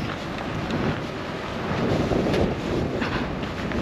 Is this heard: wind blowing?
yes